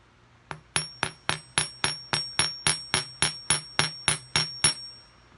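A sterling silver heart is struck by a metal hammer about fourteen times in a steady rhythm, each close, ringing blow fading before the next, with no talking.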